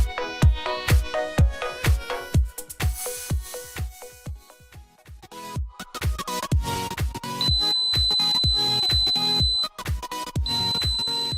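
A homemade PIR motion sensor alarm with a transistor-switched buzzer gives a steady, piercing high-pitched tone for about two seconds, pauses briefly, then sounds again, all over loud plucked background music.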